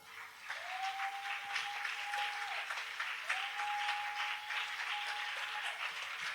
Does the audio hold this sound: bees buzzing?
no